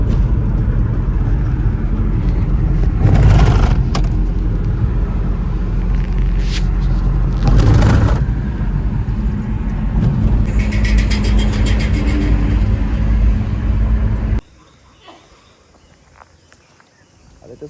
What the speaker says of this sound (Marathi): आता चालू केली गाडी